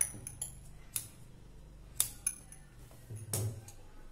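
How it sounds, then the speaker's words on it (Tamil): Scissors trim the extra fabric piece from a blouse being stitched, giving a few sharp, quiet snips and light metallic clicks spaced unevenly in a calm room. "எக்ஸ்ட்ரா இருக்க பீஸை கட் பண்ணிடலாம்."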